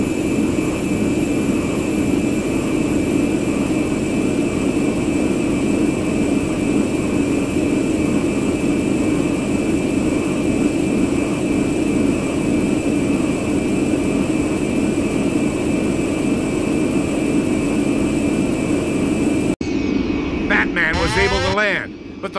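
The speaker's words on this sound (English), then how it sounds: "Fat Man and Wide Boy will set you down on the northernmost island." A transport plane's engines in the Breed video game give off a constant loud, even roar that runs on without a break and then gives way to a short burst of other game noise at the end.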